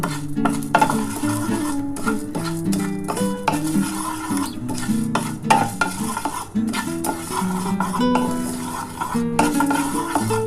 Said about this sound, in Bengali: আমি এই সমস্ত মশলাকে ভেজে নেব এই যে গোটা জিরে ধনে গোটা গরম মশলা আছে আর এই যে দুটো শুকনো লঙ্কা এটা শুকনো কড়াই ভেজে নেব